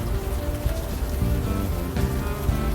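Steady rain pours in the adventure game Unavowed, a dense even hiss of drops on pavement with no voices.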